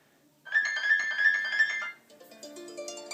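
The iOS 6 clock app's ringtone plays on an iPad, a bright repeating electronic tone pattern lasting about a second and a half, followed by a different melodic chime sequence, clear and close with no talking.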